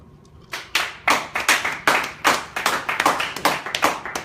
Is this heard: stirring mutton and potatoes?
no